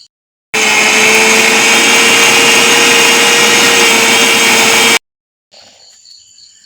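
A mixer grinder roars loud and close, grinding raw rice with coconut water for Pesaha appam batter, running steadily for about four and a half seconds before cutting off, followed by faint quieter sounds.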